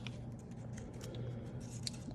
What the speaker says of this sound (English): you can just take your scissors to it and have a nice straight edge